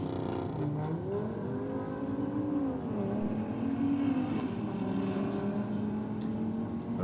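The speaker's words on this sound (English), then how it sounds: "The VX Commodore. I think the 6-cylinder taking on the Audi, I believe it is, in the rocket lane." A six-cylinder VX Commodore drag racing an Audi gives a sustained engine drone whose pitch climbs and wavers as it pulls away, loud and steady with no voices.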